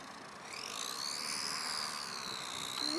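An R/C Cessna 747 four-channel ARTF model airplane engine drones in flight, a thin, steady whine whose pitch slowly rises and falls as it passes at moderate distance.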